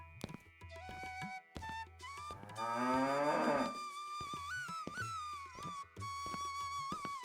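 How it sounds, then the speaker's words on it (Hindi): Bullocks mooing near a farm field, a long, close, rising and falling low bellow in the middle of the clip, heard among steady background tones. "अर्जुन तुरंत बैलों को लेकर खेत की ओर चल दिया"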